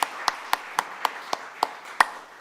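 At an early-morning church worship service, the congregation claps in encouragement, giving a brisk, evenly spaced run of about nine sharp claps at close range.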